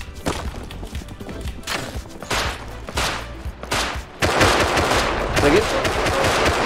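Rapid automatic gunfire from the survival game Rust, in repeated close bursts with bright cracks, intensifying near the end, while players talk over it.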